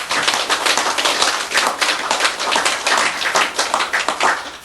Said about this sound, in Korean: 알았으면 박수 좀 쳐.